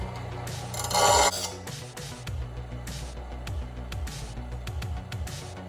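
A hand file rasps along the bevel of a steel dagger blade, a loud harsh scrape at first, then quieter strokes and clicks against a humming background, with no speech.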